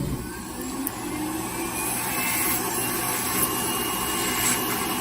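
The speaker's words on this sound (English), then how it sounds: "I'm gonna grind it down real well." An electric nail grinder works down a thick, crunchy, layered toenail, giving a steady close whirring and buzzing drone that holds at an even level for the whole stretch, with no voices.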